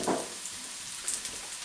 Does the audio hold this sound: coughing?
no